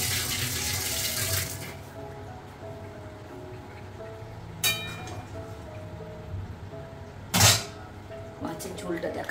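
Dishes being washed under running tap water in a home kitchen, with a steady close stream of water and occasional sharp clinks of crockery.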